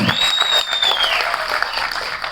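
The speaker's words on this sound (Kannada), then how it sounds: "ಆ್ಯಂಡ್ ಜೋರ್ ಚಪ್ಪಾಳೆ ಬರಬೇಕು ನಮ್ಮ ರಘು." An audience claps at a Kannada film press meet, a dense burst of applause with a thin electronic whine running through its first second.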